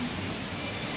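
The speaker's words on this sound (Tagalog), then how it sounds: "Ulan na, ulan." Heavy rain falls steadily during a downpour strong enough to start flooding, a dense, even hiss that stays loud and close for the whole moment with no voices over it.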